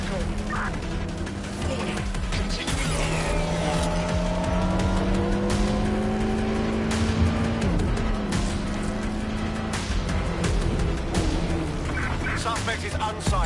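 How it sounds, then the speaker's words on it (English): Car chase in Watch Dogs: Legion with engines revving, tires squealing and vehicles ramming a suspect's car, sustained loud rising engine whine with sharp impact bursts and skids throughout. "Preparing to ram suspect's vehicle."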